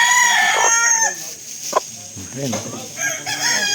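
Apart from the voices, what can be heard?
large chicken crowing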